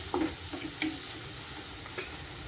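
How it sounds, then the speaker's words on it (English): Blended shallots frying in a pan for mutton masala give off a steady sizzle, broken by a few scraping stirs and soft clinks of the spoon, heard close with no talking. "now add the blended shallots. Stir it well."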